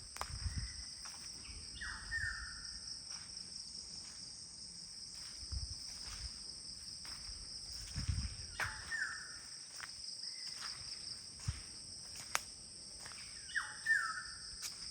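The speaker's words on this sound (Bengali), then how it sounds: "এবং বিভিন্ন রকমের পাখির ডাক তো শোনা যাচ্ছে।" Assorted birds call from the trees around a hilltop forest cottage at CRP. Their short, faint chirps repeat every few seconds over a constant high drone of insects, with no talking.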